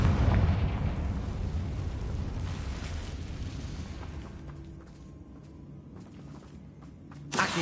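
Confringo blasting spell in Hogwarts Legacy, a rumbling explosion that rolls loud at first and slowly fades into crackling debris, with a fresh burst right at the end.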